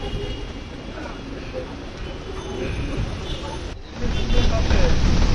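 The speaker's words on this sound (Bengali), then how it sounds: "দেখতেছি দোতলা বাস আসতেছে বিআরটিসির" A BRTC double-decker bus pulls up in heavy, rainy Dhaka traffic near Malibagh, its engine rumble rising over constant road noise with a voice talking throughout.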